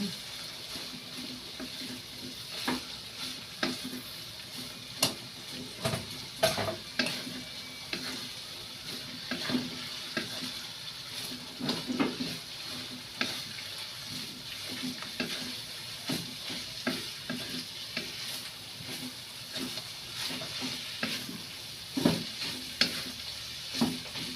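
Shredded chicken breast for chicken pastil frying in a pan, stirred with a steady sizzle and repeated scraping, clattering utensil strokes throughout; a voice speaks briefly now and then.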